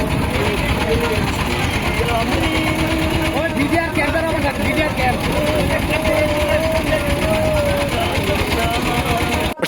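A boat motor on the Brahmaputra river runs at a loud, steady idle-like drone with a buzzing, rattling tone, while people talk faintly over it.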